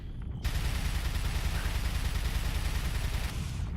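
Gunshots fired at a creature in Resident Evil 4 blend into a dense, continuous barrage of rapid fire that lasts several seconds before ending abruptly.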